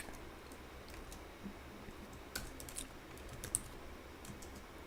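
Computer keyboard typing code, sparse quiet key taps scattered over a faint background hum, a few sharper clicks, no talking.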